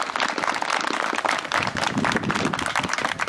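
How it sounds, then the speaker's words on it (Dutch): Steady, dense applause for Twan van Gent at a celebration honouring him, sustained and fairly loud throughout with no voices over it. "applaus voor Twan van Gent"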